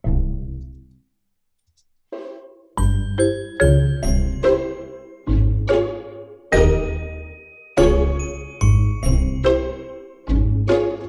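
Low marimba notes struck one after another in a slow melodic phrase, each mallet hit ringing and decaying, with a short pause near the start.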